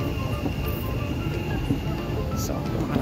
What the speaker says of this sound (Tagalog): Kararating pa lang ng tren.